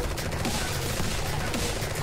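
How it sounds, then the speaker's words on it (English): Massive gunfire in the video game Strain Tactics: dense, continuous bursts of rapid shots overlapping into a loud fusillade, with a voice faintly underneath. "So just massive gun firing."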